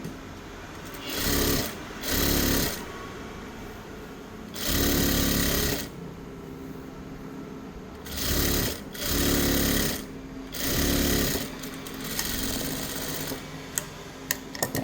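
A sewing machine stitches a girl's shirt in short, loud, whirring bursts of rapid needle clatter, separated by pauses with low background hum.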